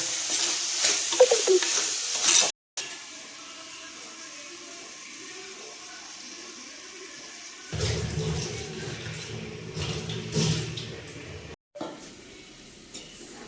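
Chicken and salt stirred in a frying pan for a home-style Kerala chicken roast, giving a steady close scraping, sizzling stir with brief pauses and a louder, busier stretch toward the end, no talk.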